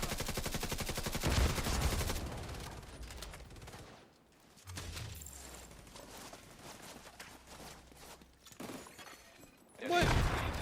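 Bursts of automatic gunfire in The Division 2, rapid crackling volleys in the opening seconds and again at the end, with quieter shots, thuds and talk between them.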